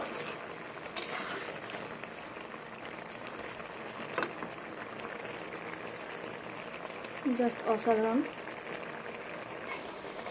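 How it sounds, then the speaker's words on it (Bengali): A bottle gourd sour curry with jujube boils in a pot, giving a steady soft bubbling hiss throughout, with a few brief louder clinks and a short burst of speech near the end. "খুব ভালোভাবে ফুটে গেছে"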